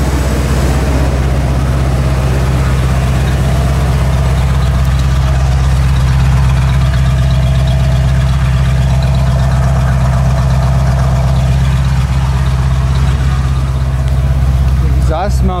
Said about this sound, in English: Okay, listen to that idle.